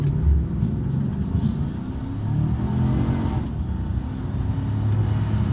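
A supercharged Chevrolet Silverado pickup truck pulls away under half throttle, its engine a deep, steady rumble that swells slightly as it gains speed.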